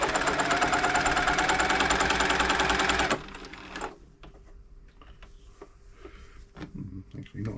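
An Elna Club Computer 500 sewing machine runs a straight stitch in one continuous, slightly clunky burst, then stops, leaving faint handling noises and quiet room sound.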